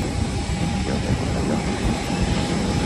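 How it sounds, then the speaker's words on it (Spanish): Airplane engines drone steadily near an aircraft while passengers board at Tulum airport, a continuous broadband roar with a faint steady tone above it and no pauses. "les dejé un poquito el sonido ambiental para que oigan cómo suena el avión"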